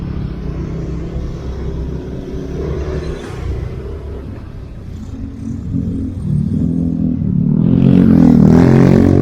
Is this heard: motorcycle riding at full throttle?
yes